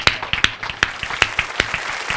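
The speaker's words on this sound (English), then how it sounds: "let's give him a big round of applause." An audience applauds a speaker at a congressional campaign event, with loud, sharp, sparse claps coming in a steady burst close by and no talking.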